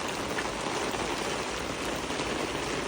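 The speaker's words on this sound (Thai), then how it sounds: "ฝนตกฝนตกพี่น้อง" Heavy rain pouring down on an afternoon in New Zealand, a dense, steady hiss of drops hitting surfaces that stays loud and unbroken throughout.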